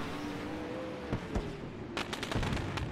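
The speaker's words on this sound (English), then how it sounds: "Hear the fireworks off in the background, already going off here at the Volusia Speedway Park." Fireworks bursting at a speedway after a sprint car race night, heard as scattered sharp cracks and pops over steady crowd and track ambience, with a denser cluster of bangs in the last second.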